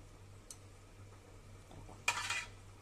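A faint metallic clink, then a short scraping of spoons against a pot of molokhia, quiet over a low steady hum.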